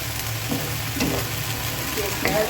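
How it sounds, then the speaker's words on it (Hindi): Garlic ginger paste sizzles steadily in a pan with onions, a continuous close, even hiss of frying with faint stirring scrapes and no talk. "अब हमें लहसुन अदरक को 2-3 मिनट के लिए भूनना है"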